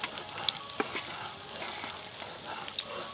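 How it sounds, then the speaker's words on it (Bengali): Rohu fish fat renders and fries in a pan, a steady close sizzle with small scattered pops and crackles, moderately loud and alone. "মাছের তেলটা ভাজতে এই দেখুন এত তেল বেরিয়েছে"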